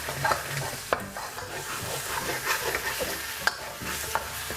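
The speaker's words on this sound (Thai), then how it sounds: "เราก็จะผัดไปเรื่อยๆนะครับ" Thai panang curry paste is stir-fried with coconut milk in a pan, giving a steady close sizzle with scraping stirs and a few sharp utensil clicks against the pan, with no talking.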